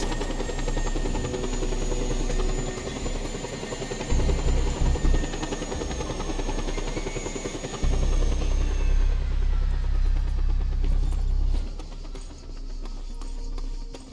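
A video game helicopter drones with a steady low rotor rumble and whine, loud and continuous, with heavier bursts of low thump partway through and a quieter tail at the end.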